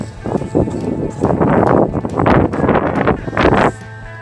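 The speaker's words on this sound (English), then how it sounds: "It's very windy today. I'm trying to block the wind on my microphone." Strong gusts batter a microphone outdoors at a car show in Asheville, North Carolina, near a 1970 Chevy SS 396, making loud, rumbling bursts of buffeting that swell and drop in several waves across the few seconds.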